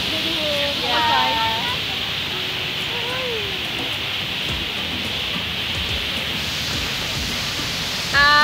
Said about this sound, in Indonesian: Arusnya itu deras banget.